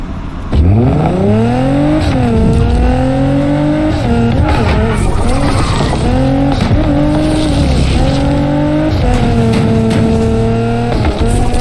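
A car drifting in a racing video game: a loud, continuous engine note climbs and dips in pitch as the car revs and shifts through the slide, with no voices over it.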